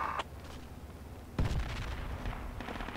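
A grenadier's launcher fires in the tactical shooter Project Reality: one sharp, loud report cuts in after a quiet stretch, followed by a rolling echo.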